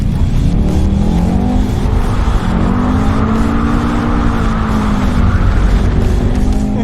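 A 2021 high-powered performance wagon with a long wheelbase drifts. Its engine roars loud and close in a continuous revving drone whose pitch wavers and climbs as the car slides, with no voices.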